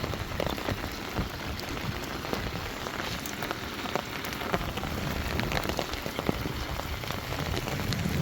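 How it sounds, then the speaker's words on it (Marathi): Steady, dense rain pours down continuously on farm fields, a broad hiss of drops drumming on surfaces with occasional louder splashes, no voices. "पाऊस खूप चालू आहे."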